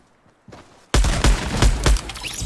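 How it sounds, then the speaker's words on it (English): Rapid gunfire bursts in a battle royale video game, a quiet lead-in giving way to loud, close volleys of repeated shots in an uneven rhythm. "Double shot to kill that guy"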